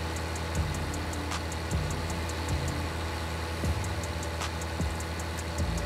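Tractor engine running in the farming video game Landwirtschafts-Simulator 19, a steady low mechanical drone with faint periodic ticking and a few soft thumps, heard alone without talk.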